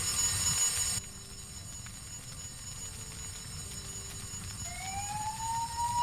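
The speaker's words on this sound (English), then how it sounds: "I could hear the sound of distant sirens" Fire engine sirens wail in the distance in the visual novel game The Fruit of Grisaia, a faint rising tone emerging late over a steady low rumble after a brief louder opening burst, with no voices.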